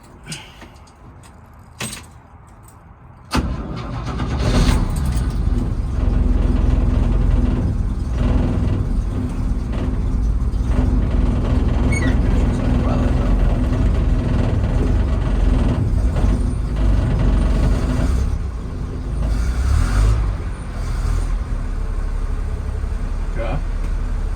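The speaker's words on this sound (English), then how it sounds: "Because that exhaust is just boom, boom, boom, boom, banging." A 1969 Chevrolet C10 pickup engine starts after a few clicks and then idles loudly and steadily, its exhaust banging and rumbling throughout, with brief rattles over the running engine.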